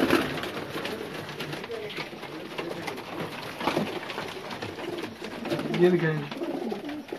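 Pigeons in a champion racing loft in Sharjah coo softly in the background while someone speaks over them, with occasional fluttering and low throaty calls near the mic.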